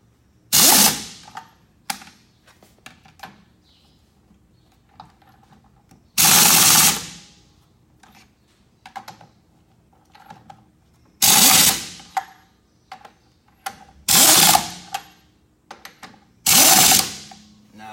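An impact wrench tightening lug nuts on a car wheel during a tire rotation, loud close bursts of rapid hammering, about five main runs separated by quiet gaps with faint clicks and handling noises.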